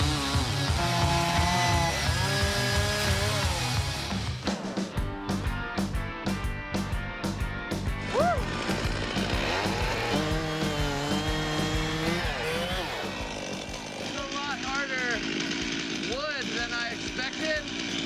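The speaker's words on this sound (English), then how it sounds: "we're ready to start this international chainsaw carving competition" Chainsaws rev and bite into wood as carvers shape life-size wooden horses at an international chainsaw carving competition, engines rising and falling in continuous loud bursts while voices talk over them.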